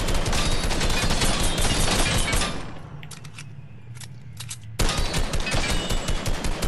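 Rapid automatic gunfire from a Lego Batman video game, loud dense bursts that fall to a brief low lull midway, then resume at full intensity.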